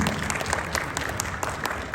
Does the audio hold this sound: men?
yes